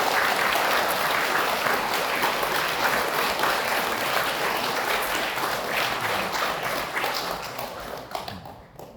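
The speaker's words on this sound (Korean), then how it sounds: "우리 성모 엄마께도 감사의 박수" A church congregation claps in thanks, a dense, sustained round of applause from many hands that carries on steadily for several seconds and then thins out and fades at the end.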